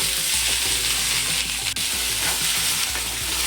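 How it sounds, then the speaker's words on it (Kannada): Sliced okra frying in half a teaspoon of oil in a pan for sambar, stirred now and then; a loud, close, continuous sizzle with scraping stirs and a sharp clink partway through. "ಹಾಫ್ ಟೀ ಸ್ಪೂನು ಆಯಿಲ್ ಹಾಕ್ಕೊಂಡು ಹುರ್ಕೊಳ್ತೀನಿ ಬೆಂಡೆಕಾಯಿನ"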